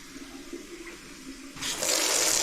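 Water rushing out of an opened pipe line during a leak repair, starting as a low trickle and then bursting into a loud, steady gush near the listener, with no talking.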